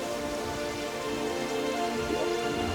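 Steady, even rain hisses down in the video game Terraria Calamity, a continuous wash of falling drops with no voices.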